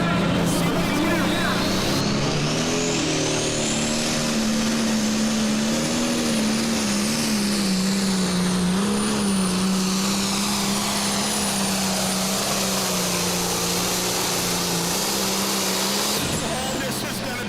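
Pulling tractor at a county fair tractor pull roars under heavy load while dragging a sled, a loud sustained engine drone with wavering pitch and whining turbo, close and continuous until it cuts off near the end.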